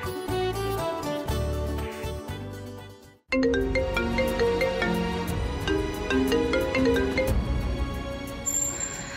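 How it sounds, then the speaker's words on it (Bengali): A mobile phone plays a melodic ringtone as a call is placed, a steady musical tune that cuts out for a moment near the three-second mark and then carries on at the same level. "আমি জগদ্ধাত্রীকে ফোন করছি"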